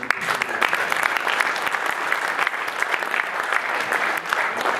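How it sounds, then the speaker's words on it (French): Audience applause at an event held at the National Assembly, a dense, steady patter of many hands clapping close by for about five seconds without a break. "je vous propose d'encourager par quelques applaudissements"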